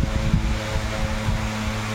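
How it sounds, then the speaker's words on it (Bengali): An electric fan hums in a home kitchen, a steady low droning whirr with a slight pulsing flutter, close and fairly loud, with no other sounds over it. "এই ফ্যান বন্ধ করে দাও।"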